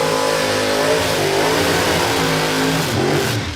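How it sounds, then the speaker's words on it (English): Drag car with a healthy big block Chevrolet engine revving loud and close at a drag strip, a steady rising roar with strong harmonic tones that dips slightly at the end. "I do think big block Chev on board, healthy big block Chev."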